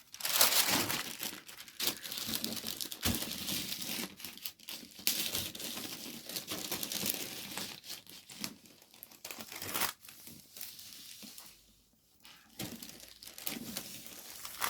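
Bubble wrap melting under a hot iron gives off continuous dense crinkling and crackling with irregular bursts and tearing-like snaps, close and fairly quiet, with a brief lull near the end.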